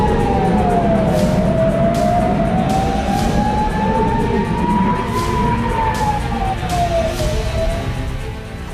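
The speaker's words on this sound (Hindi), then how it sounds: "सायरन की गूंज" A siren wails in slow rising and falling sweeps during a rocket attack on northern Israel, loud and continuous over low rumbling background noise.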